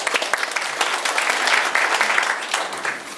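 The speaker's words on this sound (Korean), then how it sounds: "박수로 맞이해 주시면 고맙겠습니다." An audience at a garlic farming training session applauds to welcome a speaker, dense, even clapping from many hands filling the room for a few seconds.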